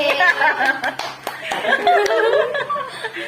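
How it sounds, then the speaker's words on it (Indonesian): Scattered hand claps and chuckles from a small group in a literacy collaboration session, a few sharp claps mixed with laughter and overlapping talk, fairly close and loud. "Tepuk tangan untuk Dani."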